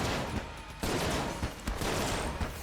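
Rapid gunfire in the video game Enter the Gungeon, a dense, continuous volley of quick shots with small repeated peaks, loud and steady for the whole stretch with no talking.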